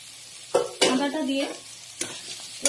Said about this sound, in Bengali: আদাটা দিয়ে একটুখানি ফ্রাই করে নেবো